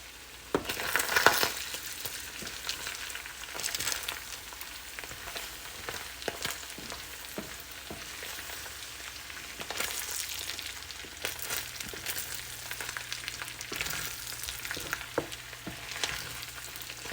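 Ground beef and chopped poblano sizzle steadily in a pan of olive oil and butter, with scraping spoon strokes and occasional clinks as the mixture is stirred, close and moderately loud with no talking.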